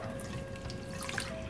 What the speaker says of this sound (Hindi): अब इसके अंदर जो 1 ग्लास ऑफ मिल्क हमें यूज करना है वो डाल दिया